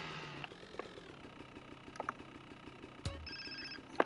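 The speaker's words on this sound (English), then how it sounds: "Here's the mission phone call" Mission phone call ringing in Grand Theft Auto: San Andreas – The Definitive Edition, a faint electronic ring under game ambience with short clicks and a sharp thump partway through.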